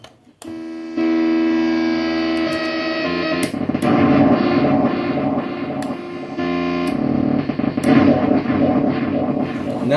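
Circuit-bent Stylophone Gen X-1 played through a Dean Markley K50 amp with spring reverb, producing a loud buzzy, distorted tone that warps into a chaotic, glitchy sputter with abrupt clicks and shifts in pitch.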